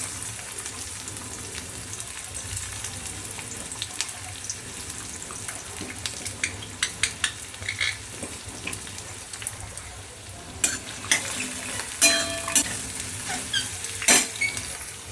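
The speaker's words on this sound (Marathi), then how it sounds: "आता तेल गरम झालंय, त्यामध्ये आपण आधी कांदे टाकूया." Onions dropped into hot oil fry with a steady, close sizzle throughout, joined later by sharp clatters and scrapes of stirring against the pan.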